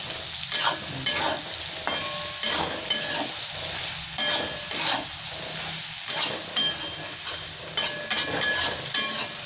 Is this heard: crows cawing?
no